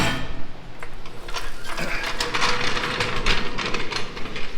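A vehicle lift lowers a 2022 Toyota Tacoma with a 2-inch leveling kit in a garage. It makes a steady, loud, rough mechanical rush that holds without a break.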